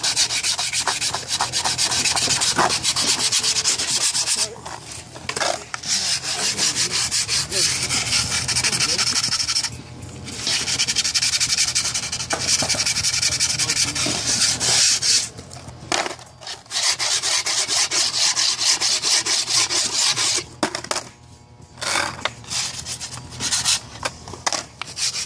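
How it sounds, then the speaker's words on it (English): Sandpaper rubbing steadily along a wooden skateboard deck, a continuous close scraping rasp with brief pauses between strokes and no talking. "Why do you sand it off?"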